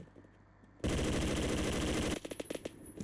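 Video game gunfire from a Beowulf ECR rifle, a loud sustained automatic burst of rapid shots followed by a few separate shots and softer clicks.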